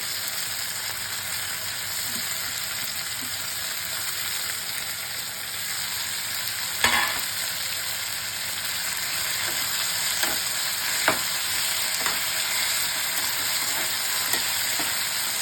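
Onions fry and are stirred in hot oil with mourala fish and potatoes, giving a steady, even sizzle throughout with a few sharp spatula scrapes and clicks against the pan.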